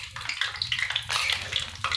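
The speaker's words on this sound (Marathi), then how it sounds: "चांगलं तळून घ्यायचं." Chili bhaji (mirchi bhaji) frying in hot oil, giving a dense, steady crackling sizzle that continues up close for the whole stretch with small bursts of bubbling.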